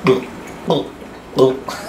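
A person imitates a green frog with three short, twangy plucked calls, evenly spaced, close and fairly loud.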